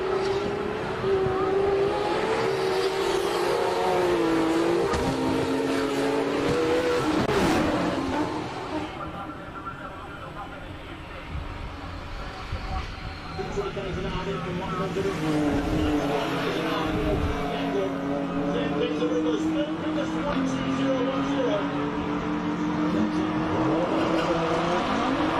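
A race car climbing the Simola Hillclimb, its engine note rising and falling through gear changes and revving hard over most of the run, with a brief quieter dip in the middle, loud and continuous throughout.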